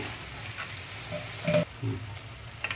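Flaxseed tempering mixture sizzling in a pan while a spoon stirs it, with a steady low fry and a couple of brief louder scraping stirs. The sound is close and alone.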